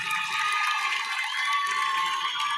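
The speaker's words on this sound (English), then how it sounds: "let's give another round of applause to Mr." A large crowd at a university event cheers and applauds a rapper, a continuous roar of voices and clapping heard from a distance, filling the hall without a break.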